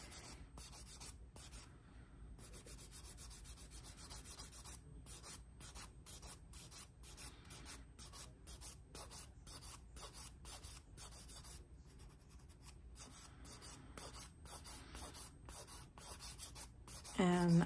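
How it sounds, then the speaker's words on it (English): A nail file rubs back and forth over dip powder nails near the cuticles in a steady series of short, soft scratchy strokes, close and quiet, with a brief pause mid-way. "if I file too much, I'm gonna start filing off the color"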